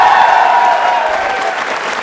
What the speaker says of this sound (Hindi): अरे तालियां जोरदार बजाइए इन बच्चों के लिए।